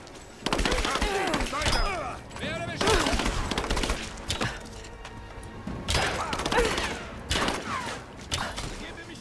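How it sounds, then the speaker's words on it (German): Rapid gunfire rings out in Rise of the Tomb Raider, loud clustered volleys with ricochet-like whines, and someone speaks briefly between the shots. "Werde beschossen"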